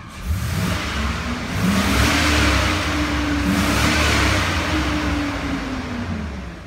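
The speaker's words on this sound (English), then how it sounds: "We're gonna give it a couple revs," A high-mileage 6.0-liter LQ4 V8 in a 2000 GMC Sierra revs up twice, engine pitch rising and holding before easing back, loud and close with a steady idle rumble underneath and no talk.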